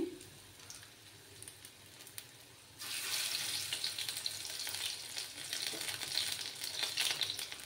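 Masoor dal bora, lentil fritters, drop into oil over a low flame and set off a steady, bright crackling sizzle that starts abruptly after a quiet moment and keeps going.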